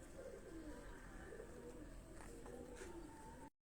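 Pigeon cooing on a rooftop loft of racing pigeons in Kasur, a steady low coo repeating softly beneath constant background noise, with a few faint chirps.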